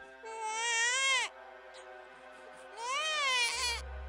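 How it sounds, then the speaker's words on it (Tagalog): A baby wails in two long, rising-and-falling cries separated by a short pause, close and fairly loud, with no talking. "Maya-maya pa po ay may narinig akong iyak ng sanggol."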